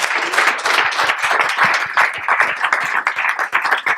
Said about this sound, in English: give them an amazing round of applause for those beautiful people